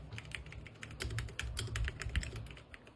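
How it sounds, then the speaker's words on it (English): Fingers type on a mechanical keyboard fitted with a new osume x Maisyleigh's keycap set. Quick, close clacks run in an uneven stream with brief pauses and no voice. "And the time you've been waiting for, the typing ASMR."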